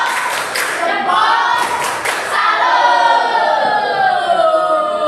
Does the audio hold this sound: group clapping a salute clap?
yes